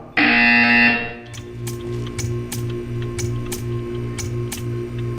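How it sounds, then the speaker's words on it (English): A buzzer in the Portal 2 test chamber sounds one loud, steady electronic blare lasting about a second, then gives way to a regular ticking pulse against a low mechanical hum. "You will hear a buzzer."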